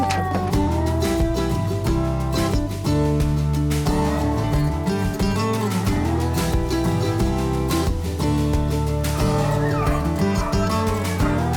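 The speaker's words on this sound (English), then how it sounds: "Every dog has its individual sound it makes" Several rabbit hunting dogs bark, yip and bay continuously in an outdoor field during a hunt in Harrison County, their overlapping voices forming a dense, loud chorus throughout.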